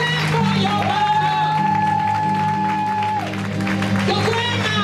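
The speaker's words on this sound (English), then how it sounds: "Give your clap for your mama. Clap for your mama." Church congregation clapping for mothers during a Mother's Day service, steady applause under organ-like sustained tones and a preacher's voice.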